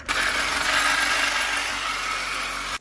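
Power saw cutting a relief cut into the rear differential of a 2006-13 Lexus IS250/350, a steady loud buzzing cut lasting nearly three seconds before stopping abruptly.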